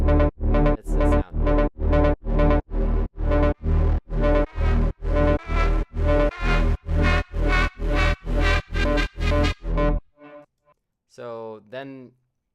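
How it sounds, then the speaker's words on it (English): A synthesizer 'balloon' sound plays in a hip-hop beat as a run of punchy, evenly spaced pitched hits with a deep low end. It ends with a short rubbery squeak flourish after a brief pause. "they call it the balloon sound. I guess it does sound like a balloon"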